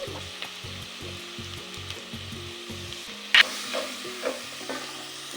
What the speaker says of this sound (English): I stir everything to combine well.